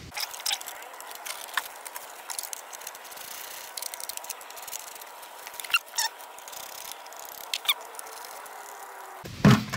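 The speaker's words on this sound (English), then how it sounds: "now we're just going to take off these bolts right here. Okay, so got a 14mm wrench." A 14mm wrench works rusty bolts loose on an old Sta-Rite Max-E-Glas II pool pump motor, with close metallic squeaks, ratcheting clicks and scraping, a short rattle near the end.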